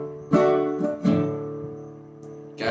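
Acoustic guitar chords strummed in a down-down-down-down-up pattern during a beginner lesson, a few ringing strokes with sharp broadband attacks and sustained harmonics, close and clear with no talking.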